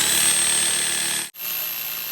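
A loud Xcort electric reciprocating saw whines steadily through thick wood, then cuts out abruptly for a split second before the motor noise resumes at a slightly lower pitch.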